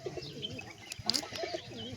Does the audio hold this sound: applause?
no